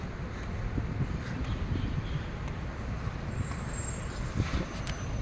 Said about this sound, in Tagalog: Malakas kasi ang hangin.